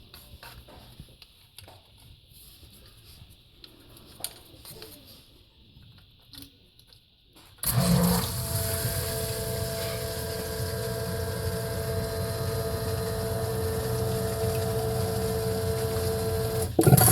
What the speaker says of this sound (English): This is supposed to activate the pump.